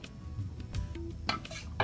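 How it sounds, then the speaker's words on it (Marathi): A hot tava griddle pan is moved off the gas in a home kitchen during a children's cooking session, giving a few brief metallic clanks and knocks close by. "आपण तवा बाजूला ठेवूया"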